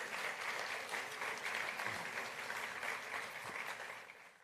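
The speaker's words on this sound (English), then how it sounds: "A big round of applause to them." An indoor audience at a campus building inauguration claps steadily, a dense sustained round of applause at moderate volume that tapers slightly at the end.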